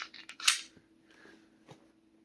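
Canik TP9 Elite SC pistol magazine released and dropped, giving a sharp metallic click and clack, then a fainter knock, all close and brief with no speech.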